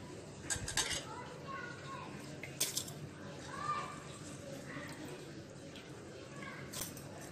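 Soaked rice tipped into a mixer jar for neer dosa, with clinks and scrapes of metal and a spoon against the jar, soft and close, arriving in short bursts while a person talks.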